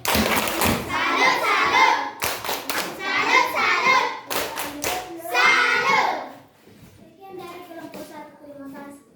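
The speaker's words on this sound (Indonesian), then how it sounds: "kita kasih tepuk salut, ya" A group of children in a classroom performs a rhythmic 'tepuk salut' clapping routine, sharp unison claps in short bursts between chanted voices, close and loud, fading into quieter talk at the end.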